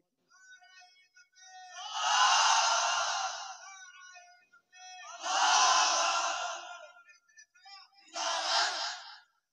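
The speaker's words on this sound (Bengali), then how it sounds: "একজন তাকবীর মানে সবাই মিলে বলেন দেখি কেমন আওয়াজ দেখি।" Large crowd at a Bangla waz religious gathering shouting takbir in unison, three loud collective roars, each swelling and fading, separated by short pauses, with a lone voice leading briefly before the first.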